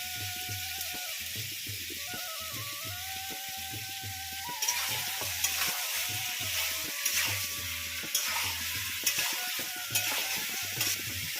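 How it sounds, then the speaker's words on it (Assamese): Cut papaya sizzles in hot oil while being stirred in a pan for Assamese duck curry, with soft regular scraping strokes over a continuous close fry that grows louder and crackles partway through. "আৰু অমিতা দি পেলাই এতিয়া অলপ সময় এনেদৰে ভাজি ৰাখিব"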